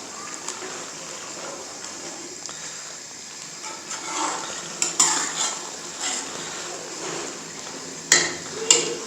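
Pumpkin halwa roasting in desi ghee is stirred with a spoon, giving a soft continuous sizzle broken by several scraping clinks against the pan, louder toward the end, with no voice.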